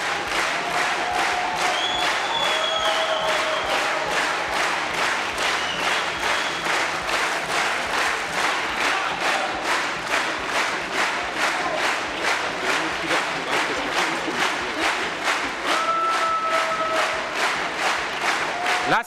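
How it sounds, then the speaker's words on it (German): A party convention audience in a large hall applauds loudly and continuously, dense rhythmic clapping with a few scattered cheers on top, sustained throughout without a break. "dann könnt ihr weiter klatschen"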